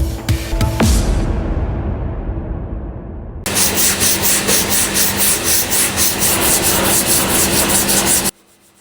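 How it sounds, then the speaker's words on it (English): Hand sanding of car body filler on a repaired panel with 120 then 240 grit paper: steady, loud rhythmic rasping strokes, close up, preceded by a rougher scraping pass. "I sanded it with 120 grit, then 240 grit"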